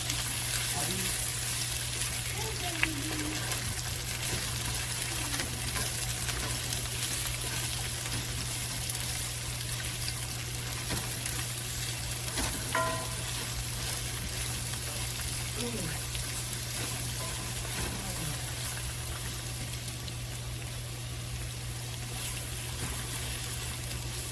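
Steak tips with peppers and onions frying in a pan at home, giving a steady, dense sizzle that stays loud and constant throughout, with no talking over it.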